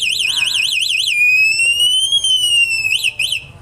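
A shrill electric scooter anti-theft alarm warbles rapidly, then holds a rising and falling siren tone before warbling again, loud and close.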